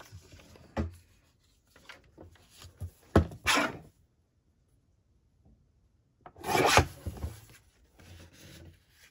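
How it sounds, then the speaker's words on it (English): Scissors cut through a paper journal tag in short, close bursts of snipping and rustling, separated by quiet pauses, with a longer cutting stroke near the end. "I could cut it back a little bit."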